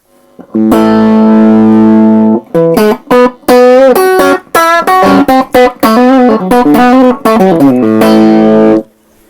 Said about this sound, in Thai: แล้วเป็นเสียงแตกที่หนามาก